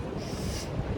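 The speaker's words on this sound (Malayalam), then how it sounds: "നല്ല കാറ്റുണ്ട് കേട്ടാ." Strong wind buffets the microphone at the top of the Eiffel Tower, a loud steady roar with no pauses for the whole second.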